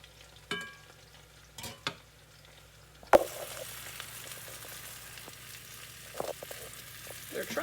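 Onion fritters frying in a skillet alongside chicken thighs, a soft continuous sizzle that grows after a sudden clatter, preceded by a few scattered knocks and scrapes of a utensil.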